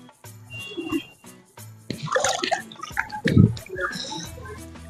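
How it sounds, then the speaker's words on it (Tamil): Water is splashed and sprinkled by hand at a temple pond, a series of irregular drips and splashes mixed with bursts of close talking. "தண்ணி தெளிச்சு போதுமா"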